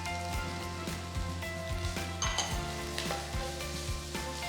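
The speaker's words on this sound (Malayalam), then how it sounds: "1 ടേബിൾ സ്പൂൺ വെളുത്തുള്ളി, ഏകദേശം ഒരു 15 അല്ലിയോളം ഉണ്ട്. ഇഞ്ചി 1 ടേബിൾ സ്പൂൺ. ഇത് സോട്ട് ചെയ്യുക." Garlic, ginger and slit green chillies sauté in a hot pan, a steady close sizzle broken by repeated scraping stirs, with no talking.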